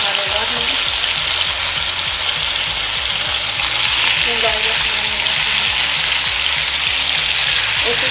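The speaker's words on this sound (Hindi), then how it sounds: "अब मसाला लगे चिकन के पीस हैं जो मैं एक एक करके इसमें रखूँगी।" Masala-coated chicken pieces go one by one into a hot pan, setting off a loud, close, continuous sizzle and spatter with repeated soft thuds and scrapes as each piece is laid down.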